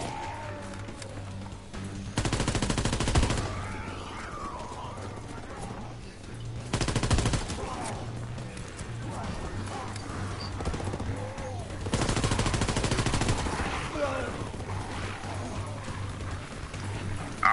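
ORSO submachine gun fire in Call of Duty WWII, heard as three loud sustained automatic bursts spaced several seconds apart, with quieter game ambience between them and no talking.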